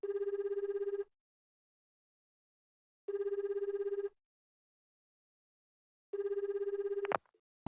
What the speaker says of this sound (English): After the third ring, I hear her voice emanating from the speaker.